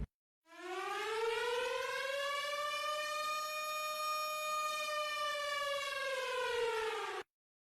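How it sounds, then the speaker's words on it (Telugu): A single air raid siren wails steadily, rising from silence, holding a loud, rich harmonic tone, then cutting off abruptly. "Air ride sirens మోగుతాయి."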